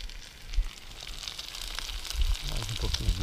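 Freshly caught fish frying in hot oil at a riverside fishing spot, a soft crackling sizzle with scattered pops that grows louder near the end.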